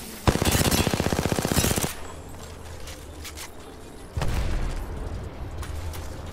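Rapid automatic gunfire rattles in a shooter video game, a dense burst of close shots for almost two seconds, then quieter game ambience with scattered clicks before a second, softer stretch of firing and rumble.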